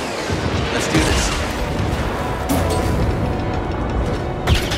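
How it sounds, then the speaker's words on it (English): Walker blasters in the Star Wars Jedi: Fallen Order video game fire in a dense, continuous barrage of booming shots, loud and close, with a louder blast near the end. "That's the blasters."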